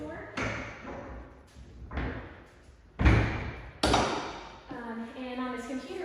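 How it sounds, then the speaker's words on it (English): Door of a veterinary underwater treadmill used for horse and dog rehabilitation swinging shut with a few dull thuds and one sharp slam, heard close up while people talk over it. "we close the door"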